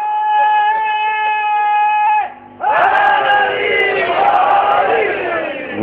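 A crowd at a Shia religious gathering chants slogans in loud unison, sustained voices holding a steady pitch, breaking off briefly and then surging back in a dense, overlapping roar.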